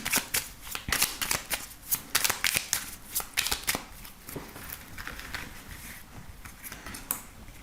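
A deck of tarot cards is shuffled before a reading: rapid, close riffling bursts, loud and dense at first, then softer and sparser toward the end, with no talking.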